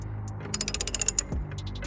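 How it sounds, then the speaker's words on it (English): Ratchet turning a socket on an extension while working on catalytic converters under a BMW E46, a quick run of about a dozen sharp clicks up close, then a short pause and a few more. "Obviously, get your ratchet in there, just like that."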